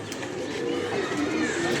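Pigeons coo softly in short throaty murmurs over a steady background hum, close by.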